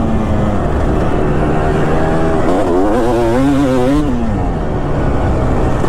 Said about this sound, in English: Like any dirt bike, you really got to ride on the front of it to keep control of that power.